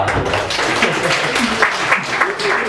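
Stand-up comedy audience clapping, a brief burst of applause in a club mixed with crowd murmur and a voice.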